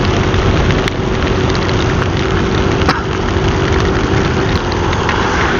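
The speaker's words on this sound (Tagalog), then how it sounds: "May ulan na, may hangin pa." Heavy rain and strong wind heard from a moving vehicle on a dark, wet, slippery road, a dense steady roar with low rumble and a few sharp knocks, loud and continuous throughout with no talk.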